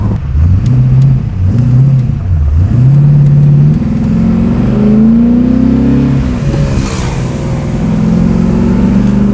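An LS V8-swapped BMW E46 M3 engine revs loudly up and down from inside the car, a deep burbling rise and fall that settles into a steadier higher drone.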